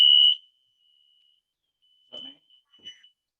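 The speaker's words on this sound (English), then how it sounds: "That's an alarm system in the house." A home alarm system sounds a loud, high electronic beep from a faulty door sensor, followed by a faint lingering tone and a few softer chirps in an otherwise quiet room.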